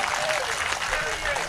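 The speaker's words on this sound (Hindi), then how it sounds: "ताली बजाइए, एनर्जी मिलती है।" Audience applause at a comedy laughter show, loud and continuous clapping filling the short moment, with a voice briefly audible over it.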